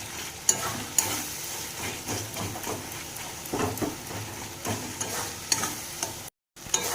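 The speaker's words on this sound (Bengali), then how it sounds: "এবার খুন্তির সাহায্যে একটু এইভাবে টমেটোটাকে ম্যাশ করে নেব।" A spatula stirs and mashes soft cooked tomato with spices in a frying pan for chicken curry, giving a steady scraping and gentle sizzle with a few sharper scrapes, close and moderately loud, no talking.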